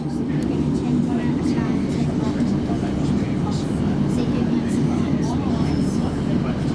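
A passenger train creeping cautiously along the rails during a trip in the North East, giving a steady, continuous low rumble with a faint hiss above it that stays even from start to finish.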